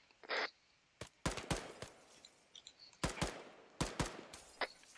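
Gunfire in the military shooter Arma 3: a burst of sharp cracks and several separate shots in quick, irregular succession, loud and close against quieter background noise, with no talking.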